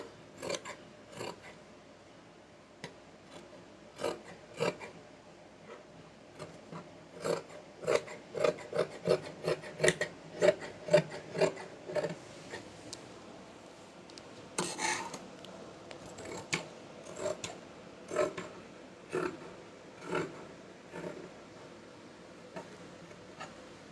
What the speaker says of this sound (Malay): Okey, kita gunting ya.